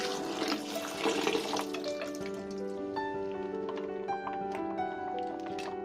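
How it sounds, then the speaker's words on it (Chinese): Soaked soup ingredients, black fungus and lotus seeds among them, are rinsed under running water in a kitchen sink, a continuous close splashing and trickling with clinking hints, over a steady tonal hum. "将所有的材料清洗多2遍，将上面的灰尘去掉。"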